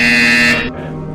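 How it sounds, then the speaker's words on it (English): A loud, steady electronic buzzer from the video game Portal Stories: VR sounds for about half a second, then cuts off and leaves a short fading tail. "You will hear a buzzer."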